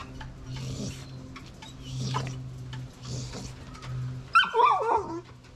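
Dog in a yard whimpering and making short yelps, with a louder burst of barking near the end, over a low steady background hum.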